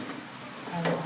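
Pork menudo with added vegetables, bell pepper among them, is stirred in a hot pan, producing a brief, close sizzle with light scraping for about a second.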